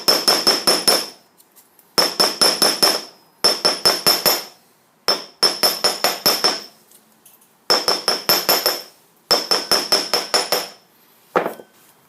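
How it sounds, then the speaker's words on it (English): Quick bursts of rapid metallic hammer taps on steel shims resting on a steel block ring out close by, repeated in several rounds with short pauses between them. "put them on a steel block, and I'll just tap around the edges with a hammer"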